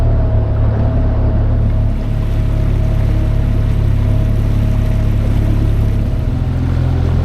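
An outboard motor driving a small boat tender along a river, a loud constant droning hum with a steady low tone, running alone without pause throughout.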